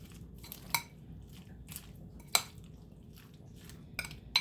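A grinder salad is tossed together in a bowl, with a few sharp utensil clinks against the dish over a soft, low rustle of ingredients.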